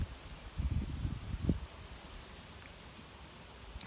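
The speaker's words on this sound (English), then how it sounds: "Oh, it's windy." Wind gusting outdoors beside a block of flats, low buffeting rumbles against the microphone for the first half, then settling into a faint, steady rustling hiss.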